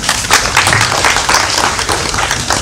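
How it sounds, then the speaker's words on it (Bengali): An audience at the premiere of the Bengali film "Dabi" at Nandan claps in a dense, loud, continuous roar of applause for about three seconds. "আমি সবার জন্য আরেকবার হাততালি দিই।"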